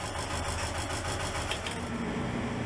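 A lifeboat engine runs at a steady idle, an even mechanical drone that continues without change throughout.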